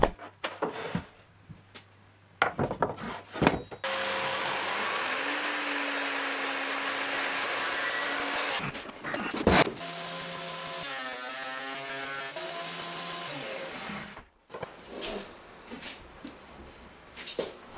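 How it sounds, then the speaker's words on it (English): A thicknesser planing pre-planed wooden boards: sharp clunks as the wood is fed, then a steady loud roar for several seconds, followed by a rising harmonic whine as the machine runs down, with scattered knocks. "as it was pre-planed, should be flat enough to put it straight through the thicknesser"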